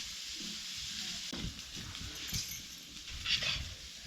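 Vadas frying in hot oil in a Maharashtrian kitchen give a steady, close sizzle that runs throughout, with a dog whimpering briefly in the background.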